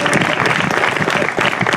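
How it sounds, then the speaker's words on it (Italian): Around two hundred people applaud at a memorial gathering for director Gianlorenzo Brambilla, a loud, close, dense burst of clapping with a few sharper individual claps poking through. "Questi sono gli applausi."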